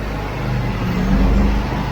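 A concrete delivery truck runs at a basement floor pour, its engine a steady, loud, low rumble that rises slightly midway, heard alone with no talking.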